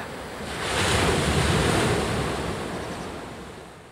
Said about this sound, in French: Les surfeurs viennent ici du monde entier pour défier les lois de l'équilibre et affronter la puissance des vagues